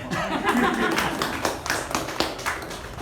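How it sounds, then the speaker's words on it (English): Scattered applause from an audience at a meeting, several sharp claps standing out over a steady murmur of voices and light chuckling, fairly close and moderately loud for about three seconds. "One more round of applause."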